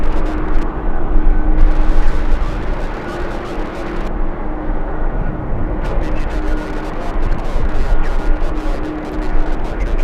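A Boeing 787 jet engine roars loudly and continuously as it spools up for takeoff at LAX. Strong gusting wind mixes into the rumble, and the engine noise stays near and sustained throughout.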